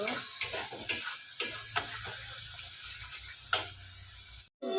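Spice masala being stirred and fried in a pan, a few crisp clacks of the spatula against the metal over a low, continuous frying hiss, nearby and fairly quiet, ending in a sudden brief silence.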